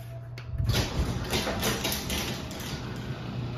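A LiftMaster 8587 garage door opener starts up and runs the door closed, a steady motor drone with rattling, slapping chain clatter throughout.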